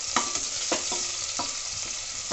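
Finely chopped white parts of green onion fry in a pan, a soft continuous sizzle broken by a few light scraping stirs, fairly quiet with no talking.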